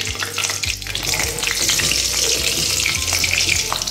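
Five or six slit green chilies fry in hot oil left over from sattu kachoris, giving a steady, close sizzle with occasional stirring clinks throughout.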